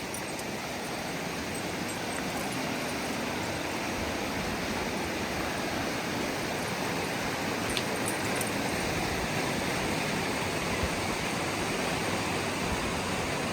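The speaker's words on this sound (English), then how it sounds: "Let's get a better look at Clear Creek here." Clear Creek near Darrington, Washington, rushing in a continuous broadband roar of flowing water, steady and fairly close with no talk.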